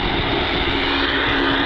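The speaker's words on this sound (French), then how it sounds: "Il y a l'hélico qui est juste là." A helicopter hovers close above a women's Giro d'Italia road race stage, its steady rotor and engine roar filling the scene loudly and evenly throughout, with no voices.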